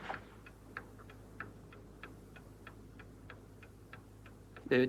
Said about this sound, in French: Danny, il me semble entendre quelque chose, un tic-tac